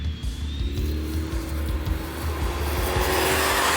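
A supercharged Dodge Charger runs on a track, a steady close engine drone with a rising whine building toward the end, and faint ticks underneath, with no talking.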